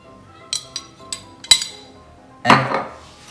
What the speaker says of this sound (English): And then I'll mix it all up.